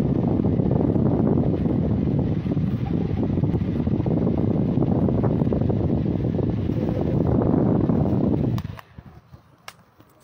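An electric fan runs on speed setting 3, making a steady, fairly loud airy whoosh that continues unbroken and then cuts off abruptly near the end, leaving near silence.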